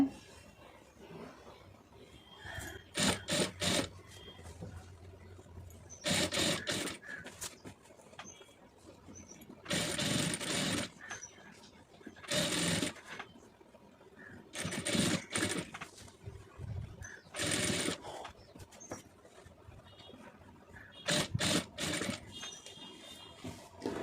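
A sewing machine stitches piping onto fabric in repeated short bursts of rapid rattling, each run starting and stopping abruptly with quiet pauses between, close and clear.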